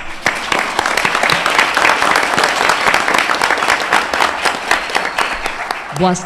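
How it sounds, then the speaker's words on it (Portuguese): Librarians and guests applaud at the opening of a library seminar held in a chamber hall, a dense, loud crowd clapping close by that continues evenly throughout before tailing off as a voice starts at the end. "uma salva de palmas para nós"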